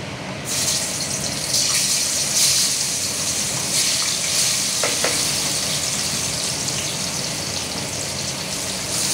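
Raw mango pieces slide into hot oil seasoned with five-spice tempering and burst into a loud, continuous close sizzle. A few short clinks and splashes sound partway through, and no voices are heard.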